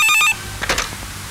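A telephone bell rings loud and close in one short burst, then cuts off into a quiet room with faint murmuring.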